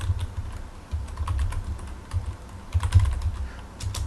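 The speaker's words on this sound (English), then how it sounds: "You could type this," Fingers type on a Commodore 64 computer keyboard, a steady close-up run of soft key clicks with slight irregular pauses, heard alone over a low background hum.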